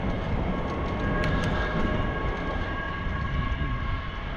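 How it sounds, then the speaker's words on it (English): A train rumbles steadily in the distance, a continuous low roar with a faint metallic rattle, no talking over it. "Trains coming in, you can hear over there."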